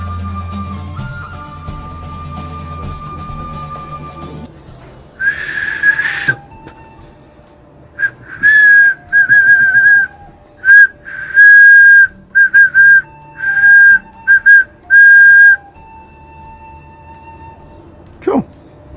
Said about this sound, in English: Whistle number 1 complete.